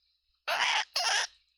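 A human voice imitates a cicada but comes out bird-like: two harsh, breathy squawks of about a third of a second each, close and loud, separated by a short gap.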